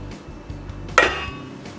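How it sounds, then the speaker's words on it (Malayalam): A metal lid is lifted off a pot of steamed broccoli, producing a single sharp metallic clink close by, ringing briefly over faint low kitchen hum. "അത് നമുക്ക് മൂടി തുറക്കാം"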